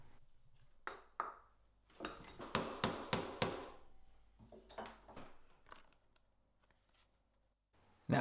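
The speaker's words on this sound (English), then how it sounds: "First a washer gets bashed down into place, and then any of the excess shaft can be snipped off with some side cutters." A series of sharp hammer blows on a rivet setting tool seating rivets in leather, quick taps in clusters, close and fairly quiet, ending with a final knock.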